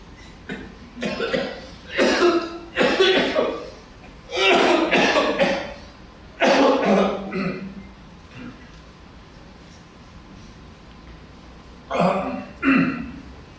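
Repeated bursts of coughing in irregular clusters, close and fairly loud, with quiet pauses between fits.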